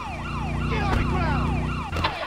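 A police car siren in a GTA game wails in repeated rising and falling sweeps, loud and close and continuous, with a low engine rumble beneath it.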